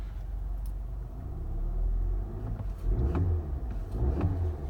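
A 2016 Audi Q3 Premium Plus engine hums at a low, subdued level while driving, with a few soft rises in revs and faint clicks over a steady road rumble.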